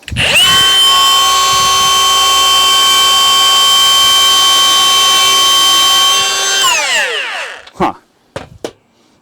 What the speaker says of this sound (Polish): frezowanie.